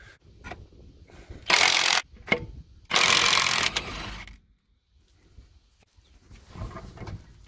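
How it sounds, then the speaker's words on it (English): Clunks, metallic rattles and two bursts of harsh mechanical noise as a mechanic pulls an aluminum wheel off a steel vehicle hub, close and intermittent with quiet gaps. "So go ahead, take that wheel off, Joe."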